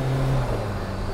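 Turbocharged car with a VNT turbo accelerating under boost, a steady low engine drone with a brief rising tone fading after half a second.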